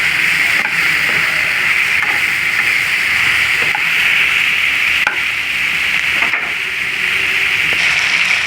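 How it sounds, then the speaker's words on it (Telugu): Ivy gourd and tomato frying in a pan for chutney, a continuous bright sizzle with faint stirring scrapes, heard up close and fairly loud, with no talking. "బాగా వేగుతుందండి"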